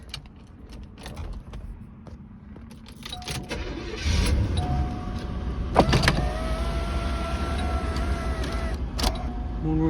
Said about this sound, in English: Moonroof works great.